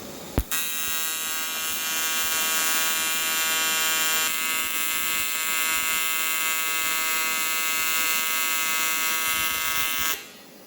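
Welding on a Yamaha R6 engine during a 5SL conversion rebuild, a loud, steady electric buzz and crackle that starts with a sharp strike and runs unbroken for about ten seconds before cutting off.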